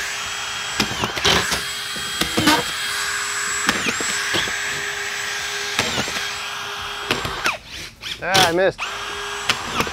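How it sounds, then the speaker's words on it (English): A Senco cordless drywall screw gun drives screws into studs in rapid bursts of high whining motor spin, several short runs with brief pauses, close and loud, with a person speaking briefly. "I'm gonna use our Senco gun and we're gonna do four screws on two studs each"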